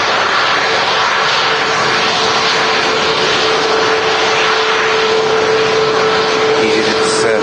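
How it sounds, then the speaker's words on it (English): An EasyJet jet airliner on its takeoff roll at Manchester Airport, a loud steady broadband engine roar with a sustained whine tone, constant throughout. "EasyJet's taking its takeoff roll."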